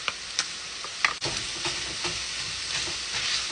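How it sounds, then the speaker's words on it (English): Onions and garlic hit olive oil in a pan for a savory breakfast casserole, giving a steady close sizzle with a few sharp crackles and stirring clinks, no talking. "Let's get our onions in and our garlic."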